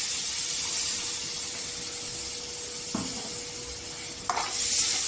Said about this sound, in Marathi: तेलावर छान असा परतून घ्यायचा एक दोन मिनिटं